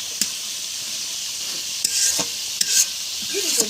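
Bay leaves and whole spices sizzle in hot oil in a pan, a bright steady hiss broken by a few sharp clicks and scrapes of a stirring utensil, no talking.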